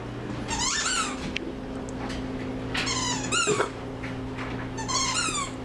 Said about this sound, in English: get a good view of this because I'm going to squeak it